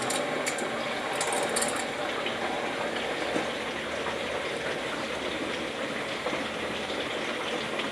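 Water rushing steadily into hot water recirculation piping with a Grundfos UP10-16 pump, a continuous broadband hiss and gush that stays even throughout.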